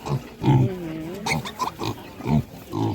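Piglets grunt and squeal in short, irregular bursts nearby, several small animals snuffling over one another in a pig pen.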